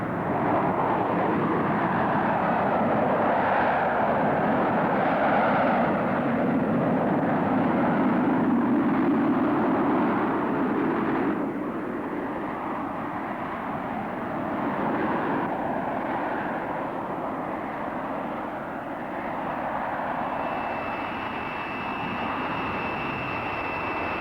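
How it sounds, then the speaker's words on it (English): A Harrier jump jet flying at an air show, heard as a loud, steady jet-engine roar that eases slightly in volume partway through, with no voices. "the Harrier can move out at Mach 1 and climb at a rate of nearly 10 miles a minute in conventional"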